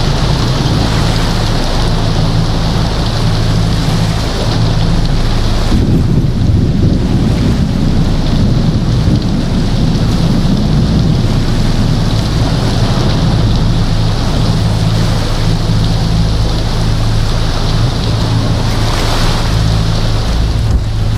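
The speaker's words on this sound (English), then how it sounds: "It's pouring down." Heavy rain and wind on a yacht at sea during a storm in the Strait of Malacca, a loud continuous roar with engine drone and gusting surges, no talk.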